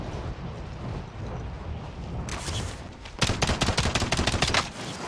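A shooting video game: gunfire breaks out as a short burst of shots over a low background, then a rapid stream of loud, sharp bursts before it quiets again.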